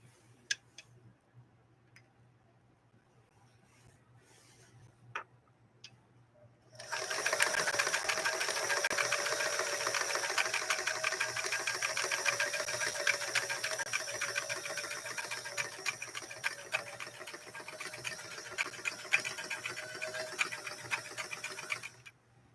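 A Singer 328K sewing machine stitches a Christmas tree pattern from a fashion disc, running in a steady fast whirring clatter for about fifteen seconds after a few quiet clicks.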